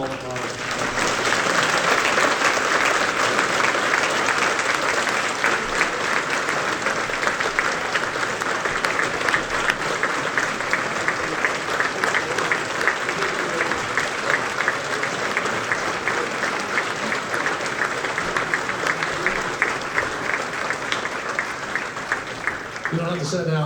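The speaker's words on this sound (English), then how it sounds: "how about a round of applause one more time for all of our" A luncheon audience honoring a Hall of Fame class applauds loudly and steadily, a dense wash of clapping sustained for over twenty seconds with a few voices mixed in.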